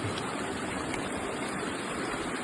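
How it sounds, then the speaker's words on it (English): Water running steadily through a gold pan during alluvial gold panning in Normandy, France: a continuous, close, rushing and splashing wash with no pauses. "we'll let the water run through here"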